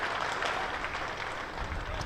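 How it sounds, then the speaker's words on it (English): A cricket crowd at a Hampshire vs Worcestershire one-day cup quarter final applauding a batsman's century: steady, dense clapping from many spectators, loud and continuous throughout the short stretch. "most of them have stood up applauding Anarian Donald"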